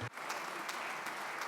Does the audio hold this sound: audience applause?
yes